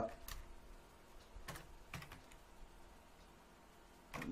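Typing on a computer keyboard while entering text in desktop publishing software, a few soft scattered key taps, faint and close, with low background hiss.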